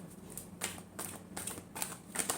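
Tarot cards being shuffled by hand: a quiet series of quick crisp riffling snaps and flicks, heard close, in an uneven rhythm of about six short bursts.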